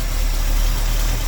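A 1971 Buick Skylark Custom with its original 350 cubic-inch V8 and Edelbrock four-barrel carburetor idles while warming up, giving a loud, steady low rumble with an even pulsing beat and no voices.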